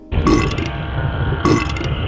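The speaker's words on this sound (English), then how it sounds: "you hit it, and it burps" Grotesque monster from the Silent Hill 4 video game letting out a loud, wet, gurgling burp when struck, with a second burp following about a second later.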